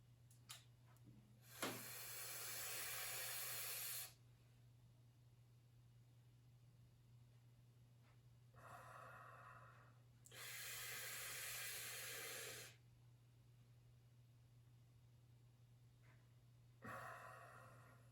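Deep breaths drawn in through the mouth as if through a straw after taking a spagyric tincture under the tongue, heard as two long, steady, airy inhalations close up, with a shorter one starting at the end, in a quiet room.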